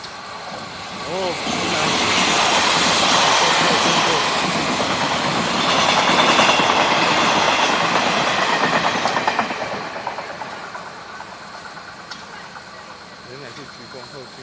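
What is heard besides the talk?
steam locomotive CT273 starting and running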